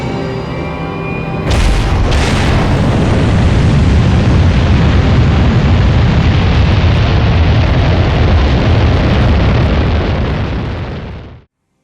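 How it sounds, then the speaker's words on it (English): Spacecraft launch in the video game Halo: Reach, a sudden deep rumbling roar that ignites and swells into a sustained, very loud blast of engine thrust, holding steady before cutting off abruptly. "Struts disengaged. Commencing launch in T-minus 5, 4, 3, 2."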